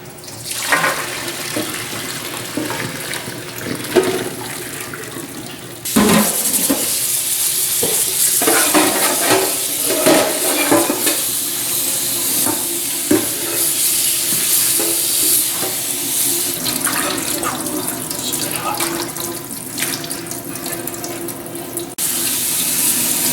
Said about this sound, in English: Now we'll get the colander out and strain all this tea colored water away from the leaves.